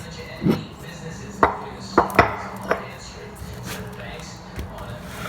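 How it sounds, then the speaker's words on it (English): Garlic chopped with a knife on a cutting board: several sharp, distinct chops spaced irregularly, close and fairly crisp, with a low room murmur underneath. "Cutting the garlic, I use the machine, but you can also use a knife."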